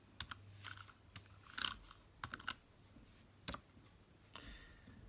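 Keys on a Nintendo Wireless Keyboard, used with a Nintendo DS, are tapped in a sparse, irregular series of soft clicks, close and quiet, with no one speaking.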